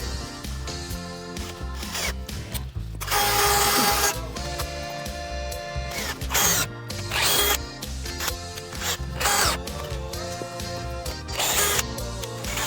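A power drill drives screws into an aluminum handrail, with several bursts of whirring motor noise and bright metallic grinding, separated by short pauses and handling clatter, close up.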